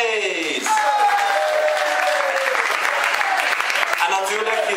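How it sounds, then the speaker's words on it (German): An audience at a house party breaks into sustained, dense applause for the DJs, a crowd clapping steadily close by while a voice speaks over the start. "das machen wir da einen Applaus vor den DJs"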